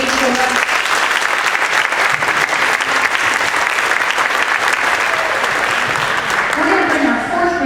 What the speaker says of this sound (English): One more round of applause for our third grade chorus.